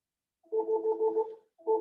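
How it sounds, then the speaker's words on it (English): A phone rings nearby in two bursts of a steady electronic tone, a long ring of about a second followed by the start of another, alone with no talk. "hold on, my phone is ringing"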